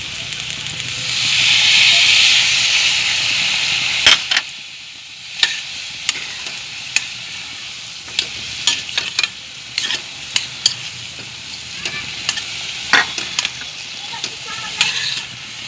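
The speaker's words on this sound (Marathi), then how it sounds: "आता आपण त्यात थोडे पाणी घालून घेऊ।" Water hits a pan of potato and pea curry in green masala and sets off a loud rushing hiss of steam that soon fades. Repeated close scrapes and clacks of stirring follow over a softer ongoing sizzle.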